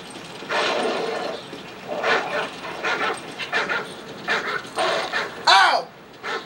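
Dogs barking, yelping and whimpering as they fight in the video game Call of Duty: Modern Warfare 3, a series of loud close bursts with panting, under an excited voice talking.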